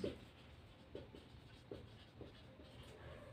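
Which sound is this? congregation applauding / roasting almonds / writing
writing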